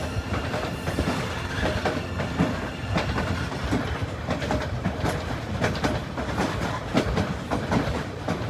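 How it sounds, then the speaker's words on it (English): White Pass & Yukon Railroad train rolling across a trestle, a continuous close rumble with rhythmic wheel clicks and clatter throughout, no talk. "We're going over another trestle and soon we'll be entering the tunnel."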